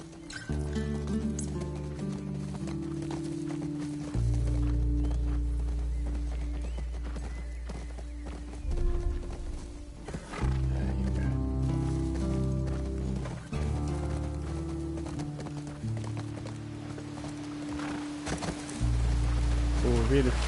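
Horse hooves clip-clop in a steady walking rhythm on the ground in The Last of Us Part 2, with occasional whinnies, game music tones and people talking over it.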